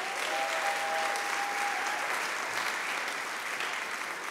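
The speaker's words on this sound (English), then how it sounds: "Can we get another round of applause for Mark Holland?" Dense, steady applause from an audience after a storyteller finishes at a live storytelling event, continuous and fairly even throughout with no voices over it.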